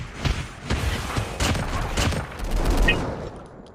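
Rapid bursts of gunfire in Call of Duty Mobile crack and rattle in quick succession, loud and close, with a brief pause midway before more shots follow.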